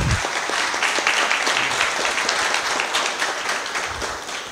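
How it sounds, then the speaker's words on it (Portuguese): Dense, sustained applause from an audience at a public presentation on coastal erosion and climate change, loud and continuous before gradually thinning out at the end. "A salva de palmas aí,"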